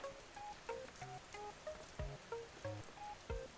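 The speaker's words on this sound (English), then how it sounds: "I mean anything more than just the insane wind and rain" Heavy rain and wind in a stormy town setting, a steady broadband wash of rain with scattered drip-like taps and irregular gusty swells, moderately loud with no talking.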